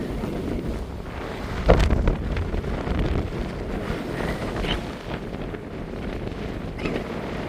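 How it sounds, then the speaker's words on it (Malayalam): Strong wind on an open desert road roars and buffets the microphone in a loud, steady broadband rush, with a sharper gust near the two-second mark and no talking. "ഭയങ്കര കാറ്റാണ്, ഒരു രക്ഷയില്ലാത്ത കാറ്റ്."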